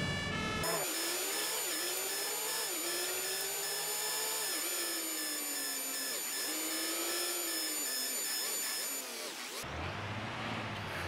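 A fire engine siren wails in the firefighting simulation game Emergency Call 112, cycling up and down in pitch over a steady engine drone, loud and constant before cutting off near the end.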